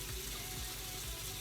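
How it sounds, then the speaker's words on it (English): Running tap water splashing steadily as hands are washed at a bathroom sink during a nighttime skincare routine, close and continuous with no talk. "I'm gonna wash my hand."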